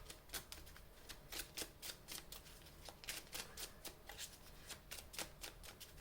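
Tarot cards are shuffled close up in quick, regular riffling bursts. The crisp rustles repeat steadily throughout, with no talking.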